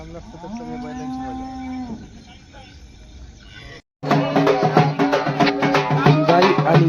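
Bulls moo nearby at the Bail Pola festival: a long low bellow first, then after a brief silence, dense overlapping lowing from several animals with bustling background noise.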